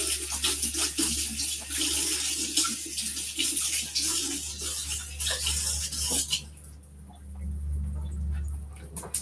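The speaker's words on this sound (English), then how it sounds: "Let me wash my hands now." Hands being washed under a running tap, a steady stream of water splashing into a sink with small clicks and shifts in the flow, fading partway through before splashing resumes.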